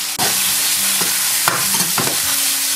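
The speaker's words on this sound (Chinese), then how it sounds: "下入我们腌制好的肉丝，把肉丝呢给它炒至发白" Marinated pork strips stir-fried in hot oil in a wok give a loud, continuous sizzle, broken by a few sharp scraping strokes of the spatula against the pan.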